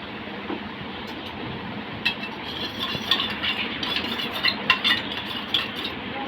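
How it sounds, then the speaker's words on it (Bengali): Oil is stirred into a sauce for chicken kathi kebab, with soft scraping and light clinks of a utensil against the bowl that grow busier and more rhythmic partway through, close and fairly clear, with no talking. "এর মধ্যে একটু তেল দিয়ে সসটাকে ভালো করে আমি মিশিয়ে নেব"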